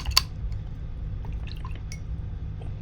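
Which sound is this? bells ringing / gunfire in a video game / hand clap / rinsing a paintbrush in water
rinsing a paintbrush in water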